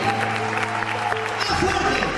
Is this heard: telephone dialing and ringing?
no